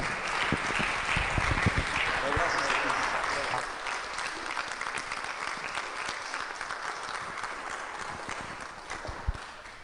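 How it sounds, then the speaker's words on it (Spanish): A church congregation applauds their pastor during a parish conference, loud sustained clapping filling the room for several seconds before thinning out, with some voices mixed in. "para que le aplaudamos fuerte también a nuestro pastor"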